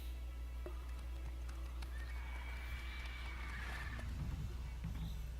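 Horse riding along a road in the video game The Witcher 3: Wild Hunt, with a soft steady clip-clop of hooves and a brief whinny, heard faintly over a constant low game ambience.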